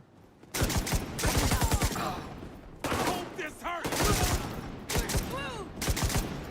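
Negev LMG fire in the video game The Division 2, heard as several loud, sustained automatic bursts with short pauses between them, while a voice talks briefly in the gaps.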